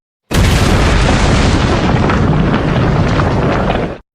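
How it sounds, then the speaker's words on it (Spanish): A loud, sustained concrete explosion roars for several seconds with a deep rumble, starting abruptly and cutting off sharply, with no voices. "Una explosión de concreto resonó con fuerza en las calles"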